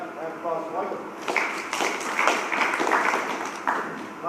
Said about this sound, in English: applause for Michael